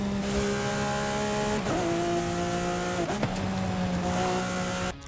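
A V12 engine of over six litres, in a Ferrari or Lamborghini in Forza Horizon 5, holds a steady high rev with tonal harmonics, dipping briefly twice as if shifting gears before cutting off at the end.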